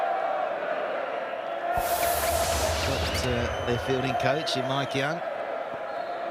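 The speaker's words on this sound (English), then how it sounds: "Hilfy is what the crowd is chanting" A cricket crowd at a 2008-09 Australia versus South Africa one-day international chants in a loud, rhythmic swell that rises partway through, heard beneath a commentator's talk.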